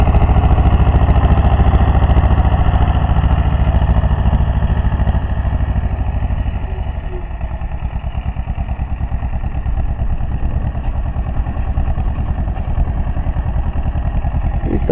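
A minitractor engine runs steadily while sowing alfalfa in a field. It gives a continuous, loud, close droning chug that eases slightly in level about halfway through and then holds steady, with no talk.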